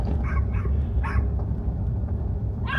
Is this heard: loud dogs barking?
yes